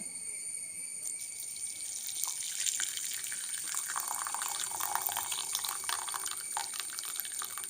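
Hot liquid strained and poured into a container, a soft continuous trickling and splashing stream that builds after the first second and runs steadily to the end, fairly faint and without talk.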